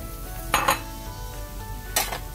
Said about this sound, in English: I'm gonna start browning our hashed red potatoes